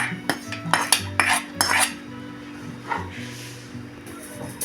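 Roasted cashews being stirred into a laddu mixture in a pan, with a spoon clattering and scraping in several quick strokes and a short pause, the sound close and fairly clear with a faint steady hum underneath.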